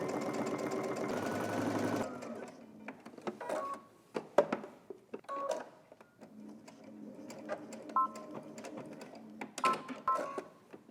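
A sewing machine top stitching a pocket on a tank top runs in a steady, close whir for about two seconds, then stops, leaving scattered light clicks and handling taps of fabric and tools.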